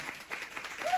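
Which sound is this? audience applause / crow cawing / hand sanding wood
audience applause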